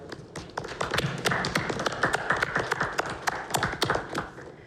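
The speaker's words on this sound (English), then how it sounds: "round of applause, everyone" Scattered hand claps from participants joining in over a virtual youth council meeting, a dense run of sharp close taps lasting several seconds with no talking.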